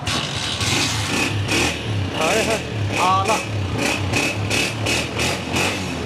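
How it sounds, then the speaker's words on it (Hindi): Honda 125 motorcycle with about 5,000 km on it, engine idling with a steady low thrum and rhythmic revs swelling roughly once a second, heard up close while someone talks over it. "बहुत अच्छे साउंड में बाइक बोल रही है।"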